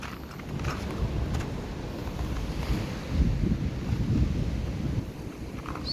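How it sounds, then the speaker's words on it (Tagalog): Strong ocean waves roll in along a rocky shore at North Baybay, Pangasinan, as a continuous deep rumbling wash mixed with heavy wind buffeting the microphone, swelling slightly partway through. "Malakas din ang alon."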